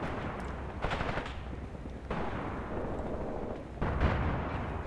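Guns fire in Graviteam Tactics: Mius Front, a wartime tank battle that includes 5 cm guns. Several heavy booms land at irregular intervals over a low, rumbling battlefield background.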